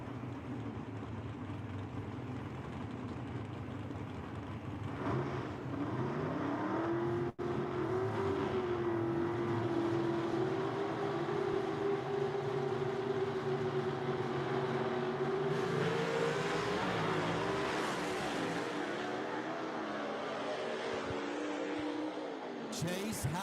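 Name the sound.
drag racing cars making a pass at a dragway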